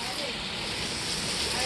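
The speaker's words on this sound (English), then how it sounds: "it's raining so hard" Heavy hurricane rain pours down in a dense, continuous hiss that grows slightly louder throughout, with a voice faintly present beneath it.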